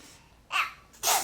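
Two quick sneeze-like bursts from a person, close and fairly loud, over a quiet room background.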